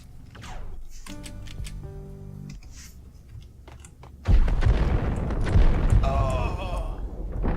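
Gunfire erupts in a Max Payne shootout, a sudden loud barrage of heavy booming shots that follows a quieter stretch of music and talk, with someone speaking over it.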